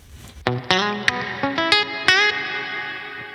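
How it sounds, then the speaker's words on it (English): An electric guitar played through an amp with a long reverb effect, several picked notes and chords ringing out in sequence, each tail washing into the next and fading slowly, with no one talking. "And then you add in the longer reverb."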